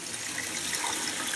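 A bath tap pours water at normal pressure into a tub being filled for a bubble bath, giving a steady, close, even rushing gush with no breaks and no voices.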